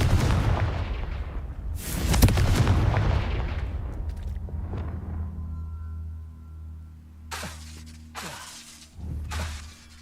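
A Confringo blasting spell explodes in Hogwarts Legacy with a loud, shattering boom and crashing debris that fades over several seconds, followed by a low hum and three more short, sharp bursts near the end.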